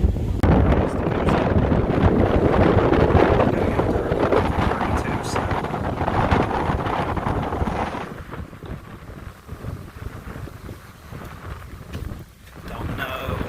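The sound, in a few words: strong wind on the microphone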